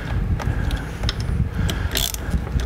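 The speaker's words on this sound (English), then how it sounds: "we're going to come up and we're going to torque these to 16" A torque wrench tightens the handlebar bolts on a 2018-or-later Honda Gold Wing, giving quick, close ratcheting clicks in uneven bursts with short pauses between them.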